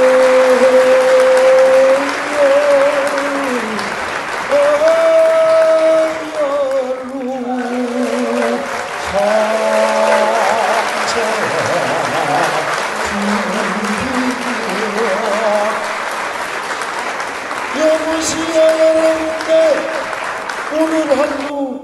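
Outdoor audience at a mountain azalea song festival clapping steadily under a loud, tonal voice that holds sustained pitches, which dominates and masks the crowd.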